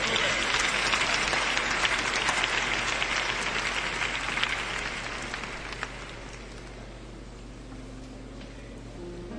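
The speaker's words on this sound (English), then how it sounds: "clap your hands and give the Lord some praise" A church congregation claps hands in praise, a dense sustained roar of applause from a large crowd that gradually thins and fades toward the end.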